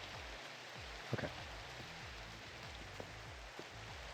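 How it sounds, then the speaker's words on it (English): Steady rain pattering in Minecraft, a dense, even hiss with a few soft louder drops and faint low game sounds underneath, no voices. "The cool thing about the rain right now is, yeah, the trident becomes that much more useful"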